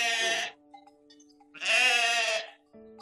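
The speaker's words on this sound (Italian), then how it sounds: "Ad accoglierci ci sono solo queste pecore che ci vengono incontro infastidite per esserci avvicinati troppo al luogo dove pascolano." Sheep bleating near grazing land in southern Italy, two loud, drawn-out bleats separated by a short quiet gap, with a softer call starting at the end.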